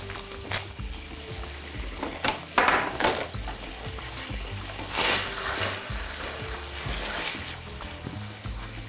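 Beef liver cooking in sauce in a pan, giving a steady, close sizzle and bubbling frying noise with occasional scrapes and stirs against the pan.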